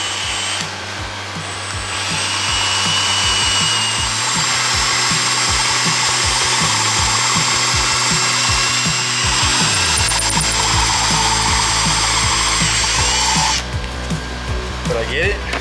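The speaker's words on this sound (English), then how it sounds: "So we're gonna drill a vent and a Zerk fitting." Power drill bores a vent hole into the metal differential housing of a Murray riding mower, a loud continuous whine with uneven grinding pulses that lasts about thirteen seconds, close up, then cuts off.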